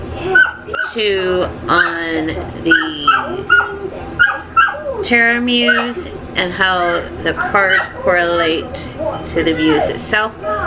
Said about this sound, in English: excuse my dog in the background because he is wanting in and he is not getting in